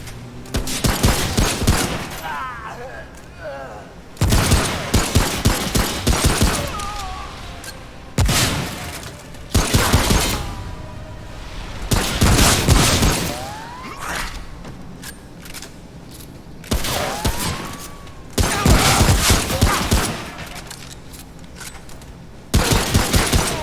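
Pistol fire in the Remnant video game, sharp loud shots arriving in rapid clusters with short pauses between bursts, close and punchy over a faint game background.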